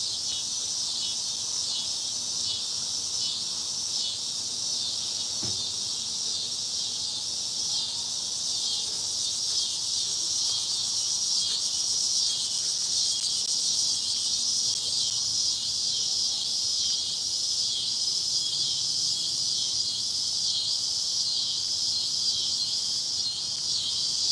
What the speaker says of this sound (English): those cicadas are so loud